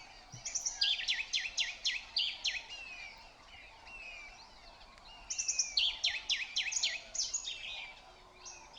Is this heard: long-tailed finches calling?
yes